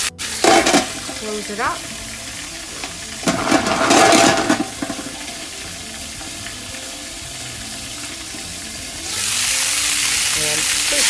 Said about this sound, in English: now immediately we're going to put the clams in